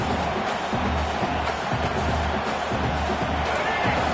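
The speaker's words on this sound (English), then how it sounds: "Listen to this crowd just shaking the girders of this place, trying to help their defense." Stadium crowd in College Football 26 roaring steadily throughout, a dense wash of cheering and babble with low rhythmic stomping or chanting underneath, loud and continuous.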